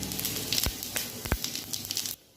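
Whole spices — dry red chilli, cardamom, clove, cinnamon and cumin seeds — frying in hot oil in a pan, a close crackling sizzle with scattered pops that stops abruptly near the end.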